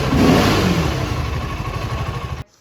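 A BSA Gold Star 650 motorcycle revving its exhaust, a loud, close engine roar that swells at the start, holds steady, then cuts off abruptly.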